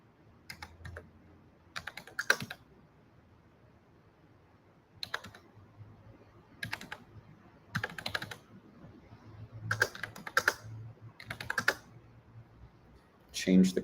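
Typing on a computer keyboard in short bursts of quick, quiet key clicks separated by pauses while entering credit card payment details, close and clear with a faint low hum beneath.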